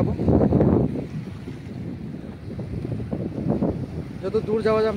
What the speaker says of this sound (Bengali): এই যে কি সুন্দর ঝর্ণা মতন ঢেউ খেলাচ্ছে, সাগর এর জল খুব সুন্দর দেখতে